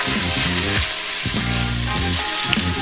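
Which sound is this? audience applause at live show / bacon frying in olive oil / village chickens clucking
bacon frying in olive oil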